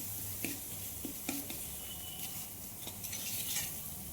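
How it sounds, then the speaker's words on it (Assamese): Ginger, garlic, onion and chili fry in a pan with salt and turmeric, giving a steady quiet sizzle broken by a few light clinks and scrapes of stirring. "নিমখো দিছোঁ, হালধিও দিছোঁ, দি পেলাই আদা, নহৰু, পিঁয়াজ, জলকীয়া আটাইখিনি মই অকণমান সময় ভাজিছোঁ"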